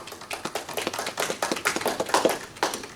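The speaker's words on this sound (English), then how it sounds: "I love the smattering of applause." Sparse, uneven clapping from a small group, a light patter of hand claps that comes across as a brief, thin round of applause.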